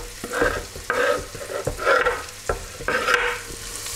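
Garlic frying in a pan with onion and celery, a continuous close sizzle broken by rhythmic scraping stir strokes every second or so, no talking.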